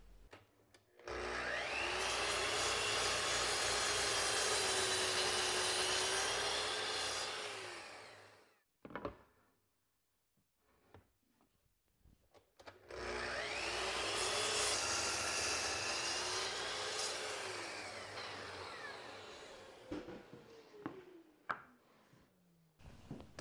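A saw with a flat ground tooth blade cuts wooden desk legs to length, two sustained whining cuts of about eight seconds each, separated by a pause with light clicks and handling noises.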